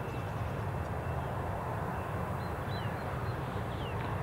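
A Jet2 passenger jet taxis at Newcastle International Airport, its engines a steady, distant whine and rumble that holds evenly throughout with no voices.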